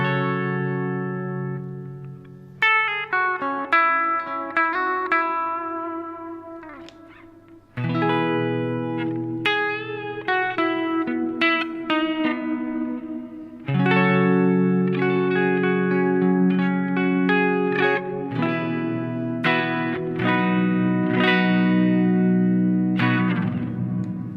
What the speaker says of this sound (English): So this is the long plate sort of sound that it can do.